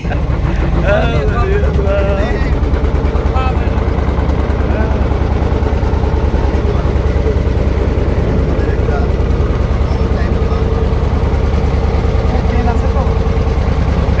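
A fishing trawler's engine drones steadily at sea, a constant low rumbling hum, loud and continuous with no breaks.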